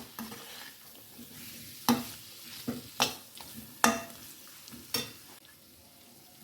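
Spice paste sizzles in hot oil in a pan as it is stirred for a mellow pot of spicy moong dal with pointed gourd, a soft steady frying hiss broken by several sharp scraping clatters of the spoon against the pan.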